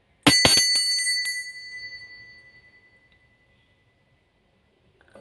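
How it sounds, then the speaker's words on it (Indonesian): A small bell is struck rapidly three or four times, giving a bright, ringing chime that decays slowly into silence over a few seconds, heard alone and close. "saya akan memulai dengan ditandai lonceng berbunyi."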